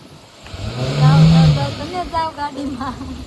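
A car engine is revved once, swelling to a loud, low roar and then dropping back. Voices talk nearby in the moments after.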